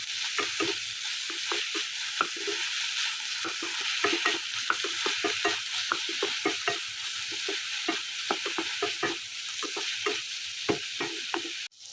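Spices with salt, turmeric, cumin and red chilli powder stirred in a frying pan for an Assamese fish curry: a continuous soft sizzle under a quick, irregular run of close spatula scrapes and taps.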